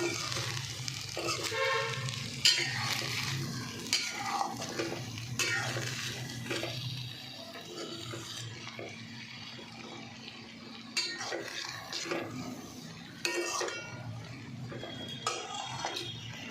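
Boiled kidney beans and corn being stirred into rice in a pan for Mexican rice, with repeated scraping and clinking of a spoon against the pan over a soft sizzle, steady and close.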